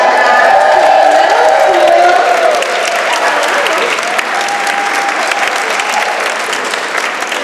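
A crowd at a Massachusetts awards ceremony honoring women breaks into loud, sustained applause. A few whoops and cheers rise above the steady wash of clapping, which eases slightly toward the end.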